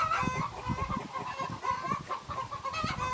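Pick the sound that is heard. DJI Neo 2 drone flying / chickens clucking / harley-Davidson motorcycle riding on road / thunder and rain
chickens clucking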